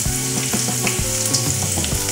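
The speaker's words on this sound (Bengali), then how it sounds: "এবার আমরা গ্যাসে ফোড়ন দেব। দুটো তেজপাতা, শুকনো লঙ্কা দেব, গোটা গরম মশলা, রসুন কুচি, আদা কুচি" Whole spices, bay leaves, dried red chillies, chopped garlic and ginger frying in hot oil, a loud steady sizzle with rhythmic stirring knocks against the pan.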